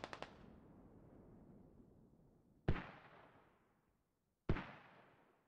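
Mortar rounds in the video game Squad: a few quick pops at the start, then two separate heavy booms a couple of seconds apart, each with a long rumbling tail that fades out. No one speaks.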